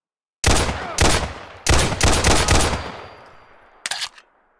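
Pistol shots fired in Fallout 4 with the Combined Arms mod: several loud, sharp reports in quick irregular bursts, a brief pause, then one more shot with a short ringing tail, no talking.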